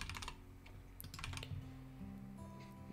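Typing random text on a computer keyboard, with quick clusters of soft clicks over a steady low background hum.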